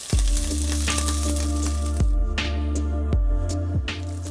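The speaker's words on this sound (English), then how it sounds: "You have to hear that sizzle." Loud, steady sizzling of meat frying in a hot pan, with a few low thumps and clatters from the pan over the constant crackle.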